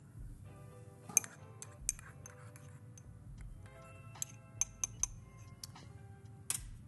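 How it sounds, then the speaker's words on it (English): A spoon stirs freshly pulled espresso of bright, high-grown Colombian coffee in a cup, giving light clinks and taps against the ceramic, some quick and clustered, over a quiet room background. "Once you pulled your espresso, I would suggest stirring it."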